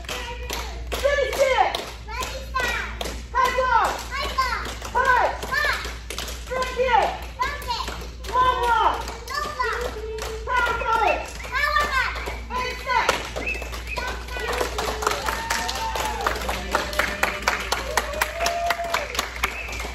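Children cheer and shout together with clapping and tapping, a lively, continuous crowd of young voices close by.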